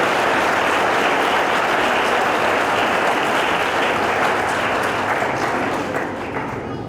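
A congregation applauds at a Sunday Mass on the fourth Sunday of Advent, with dense, sustained clapping that fills the room evenly and softens slightly toward the end.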